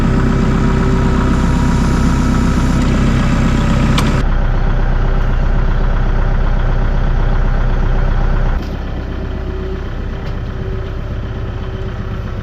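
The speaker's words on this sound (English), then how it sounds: "So let's get the tractor cranked up." A farm tractor's engine starts and settles into a loud, close, steady idle, a low throbbing rumble that drops slightly in level partway through and then keeps running with no talk.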